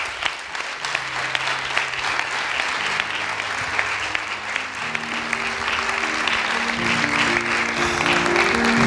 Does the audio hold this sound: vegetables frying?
no